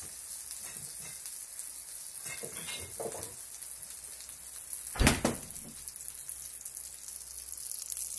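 Cherry tomatoes sizzle in a pan of lightly garlic-infused olive oil, a steady soft frying crackle with a brief louder burst as they are tossed or stirred midway.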